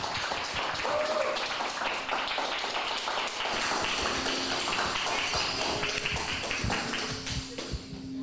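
A studio audience applauds a guest, with dense, steady clapping that carries at an even level for several seconds and thins slightly toward the end.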